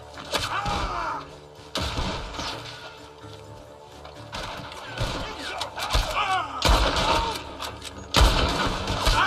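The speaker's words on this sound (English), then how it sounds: "The gunshots are coming from that barn." Loud bursts of gunfire in irregular volleys, punctuated by heavy impacts and clattering debris, with short lulls between exchanges, from a barn in the video game Red Dead Redemption 2.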